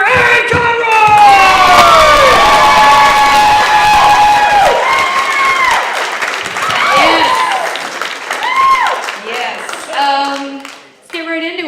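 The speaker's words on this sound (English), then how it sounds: "Please give a big round of applause" A comedy club audience applauds and cheers as a comic takes the stage, with sustained clapping under whoops and loud voices throughout.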